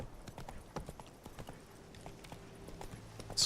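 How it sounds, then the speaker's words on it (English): Hooves of a horse in The Witcher 3 clip-clop in a steady walking rhythm, moderately close, with a low hum of game ambience and no talk over them. "That's it, Roach"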